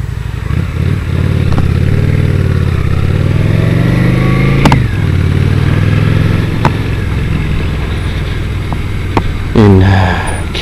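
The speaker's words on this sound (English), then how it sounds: "oh, car coming." A car approaches and passes close by on a street, its engine note rising and falling against a loud, steady rumble of a ridden motorcycle.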